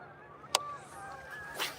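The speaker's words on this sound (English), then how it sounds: "Lots of geese" Geese flying over Prineville Reservoir give a few honks, faint and distant calls with a sharp nearby click and a brief rush of noise near the end.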